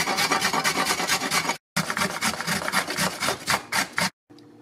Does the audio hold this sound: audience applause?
no